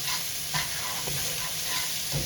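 Chicken, peppers and onions stir-fried in a wok, with a continuous loud sizzle broken by several scraping strokes of a utensil across the pan bottom, heard close up with no talk.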